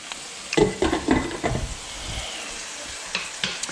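Steak frying in a frying pan during a home steak-and-salad dinner, loud sizzling bursts and spatter as the meat is moved, then a quieter ongoing hiss with a few crackles.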